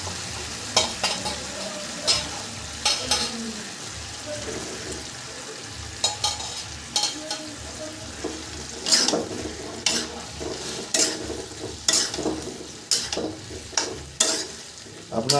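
Chicken pieces for chilli chicken being stirred and fried in a pan, a steady close sizzle broken by repeated scraping and clattering strokes of the spatula in an uneven rhythm, with no talking.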